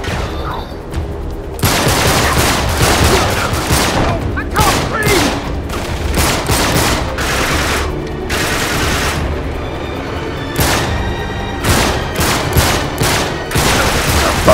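Sustained bursts of gunfire from a firefight in Uncharted 3: Drake's Deception, loud rapid volleys and separate shots repeating densely for most of the clip, with a voice talking over them.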